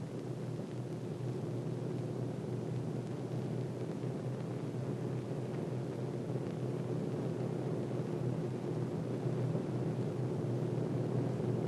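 A formation of B-26 Marauder bombers drones steadily in flight, a continuous, even low engine roar with no breaks and no voices.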